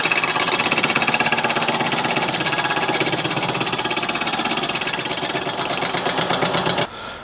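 A loud power tool cuts through a broken exhaust manifold bolt, a dense, rapid buzzing chatter that runs steadily for nearly seven seconds before cutting off abruptly near the end.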